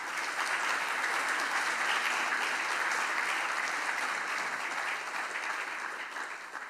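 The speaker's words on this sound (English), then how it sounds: "clap for Preet." A conference audience at JuliaCon applauds to welcome a speaker onto the main stage, a dense, even wash of clapping that holds steady and tapers a little toward the end.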